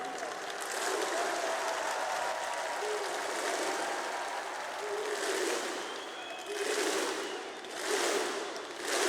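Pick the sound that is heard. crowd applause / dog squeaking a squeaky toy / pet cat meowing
crowd applause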